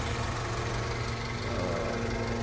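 A 1997 Honda Civic DX hatchback engine idles steadily and quietly, a low, even hum with faint vibration that holds constant throughout, with no talking over it.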